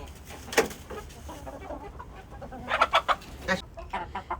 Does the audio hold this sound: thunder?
no